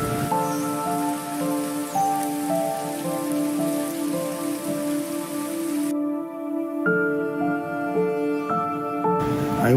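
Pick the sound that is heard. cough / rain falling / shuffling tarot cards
rain falling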